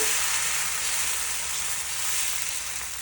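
Multigrain dosa batter sizzles steadily on a hot pan, a loud, even frying hiss that holds without pause, no voices.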